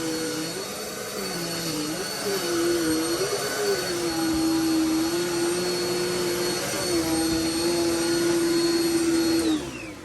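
A Dirt Devil Power Max vacuum cleaner runs close by with a steady, loud motor whine and airflow roar, its pitch wavering slightly as it moves, with no talk.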